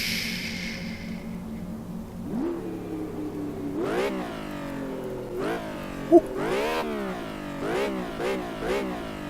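Engine revving from a Lamborghini Miura-style car in the PC game Test Drive Unlimited: after a low idle, repeated rising revs surge and drop close up, several sharp throttle blips in a row, no talk.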